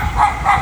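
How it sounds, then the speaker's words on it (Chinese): A small dog gives two loud, close barks in quick succession. "这小家伙汪汪叫啥？"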